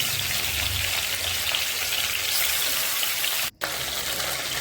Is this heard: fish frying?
yes